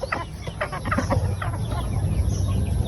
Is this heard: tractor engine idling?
no